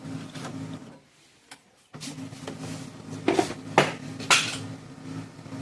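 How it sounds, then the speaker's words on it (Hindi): An HP LaserJet 126nw printer powering up makes a series of mechanical clicks, clunks and a steady hum at close range, with sharp knocks near the end. "मैं लगाता हूँ इसका पावर, यहाँ से प्रिंटर ऑन कर दिया"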